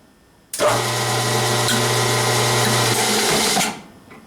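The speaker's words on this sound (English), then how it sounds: "Got the lathe set on the lowest speed, 70 RPM." A metal lathe spins at its lowest speed of 70 RPM during work on a titanium suppressor, a steady close motor whir with a low hum that starts abruptly, runs for about three seconds, then stops.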